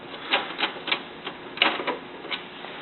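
Screws being removed from the white plastic back of an HP LaserJet 2035/2055 printer give a run of sharp, light clicks and ticks, irregular and close, with no talk.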